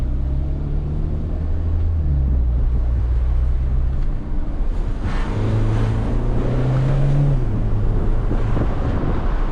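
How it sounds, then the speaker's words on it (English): Steady engine drone of a stock car with a low, rising turbo whine near the cabin, continuous and fairly loud, with no talking. "the turbo on this car is not that loud"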